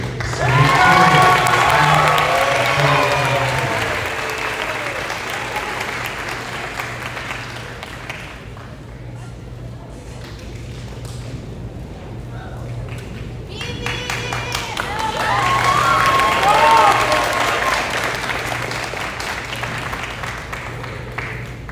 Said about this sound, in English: Please give a warm round of applause to Miriam Aljabouri